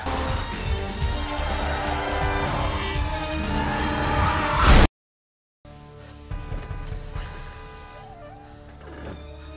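A glass vial of antidote shatters in a dramatic action-film scene, a loud sharp crash over dense music that cuts to a brief silence before the score resumes.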